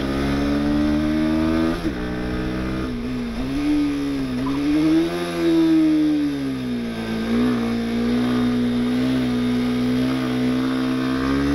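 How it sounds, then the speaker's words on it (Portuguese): A Bajaj Dominar 160 motorcycle engine accelerating hard along a straight, its loud, steady drone climbing and dipping in pitch through the gears, close and continuous for the whole stretch. "eu vou deixar vocês ouvir o som da moto até o final"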